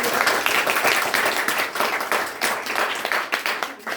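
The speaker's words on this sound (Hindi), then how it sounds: "इनके लिए एक जोरदार ताली बजाइए।" Loud, dense applause from a seated crowd at an award ceremony honoring top-scoring students, steady and sustained throughout with no pause, with many hands clapping at once close by.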